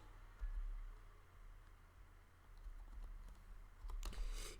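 Computer keyboard keys tapped at a desk, a quiet scattered run of light clicks over low steady hum, with a brief quicker burst near the end.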